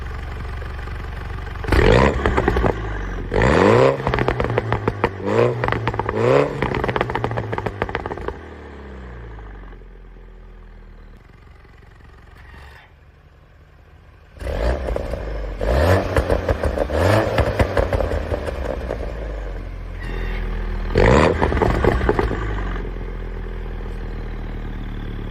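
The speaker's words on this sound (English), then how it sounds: "I'll show you the difference between valve closed and valve open now" A Mini John Cooper Works with a valved exhaust revs hard in repeated bursts, blips climbing and falling, then idles lower before loud revving returns, louder and raspier near the end with the valve open.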